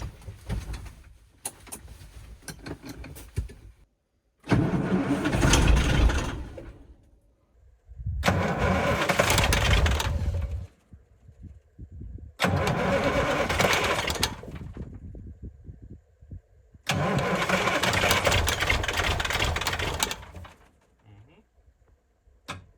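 A KAMAZ 6x6 truck engine cranks and tries to cold start at -5 degrees, with four loud, rough bursts of several seconds each, separated by short quiet gaps.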